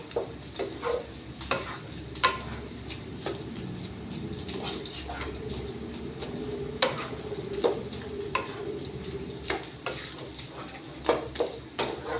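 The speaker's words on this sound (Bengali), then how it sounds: "একটু তেলের উপরে রসুনটা ফোড়ন দিয়ে" Garlic tempering in hot oil in a pan, a steady close sizzle broken by frequent light clicks and scrapes of stirring, with no voices.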